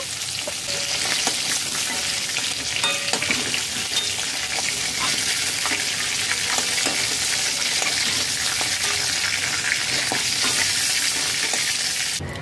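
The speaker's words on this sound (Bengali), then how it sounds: "চিকেন ভেজে নিয়েছি 5 মিনিট।" Pieces of chicken fry in hot oil with a loud, continuous close-up sizzle and crackle, broken by frequent light spatula scrapes and stirring taps throughout.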